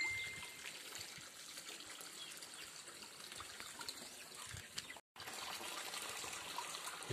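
Water runs and trickles steadily at an outdoor fishpond, a soft continuous flow with faint splashing, quiet and unbroken except for a momentary cut near the end.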